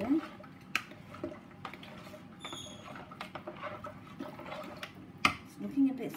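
A lorikeet food mixture being stirred in a container, with soft scrapes and clinks of a utensil against the vessel and occasional watery sloshing, fairly quiet with a brief voice nearby.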